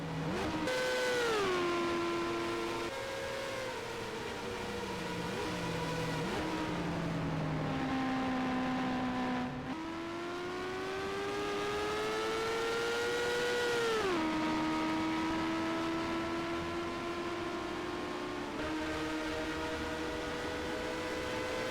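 Race cars at the 2023 Santander Grand Prix of Monza rolling down pit lane, their engines a steady droning whine that sweeps through pitch shifts as cars pass and change speed, continuous and fairly loud throughout.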